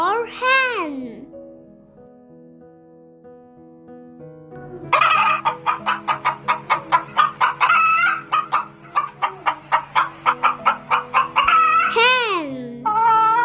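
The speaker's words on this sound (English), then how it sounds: "Hen." A hen clucks in a rapid run of sharp, close, rhythmic calls, preceded by a rooster-like crow and a sustained musical tone, with a voice nearby.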